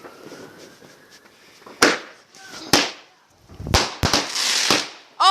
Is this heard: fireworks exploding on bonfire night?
yes